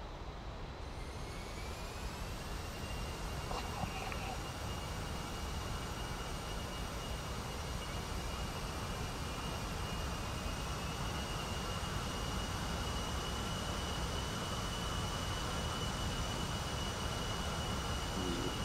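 Military aircraft taking off in a flight simulator, a steady loud jet engine roar with a rising whine that holds evenly for about eighteen seconds, no voices.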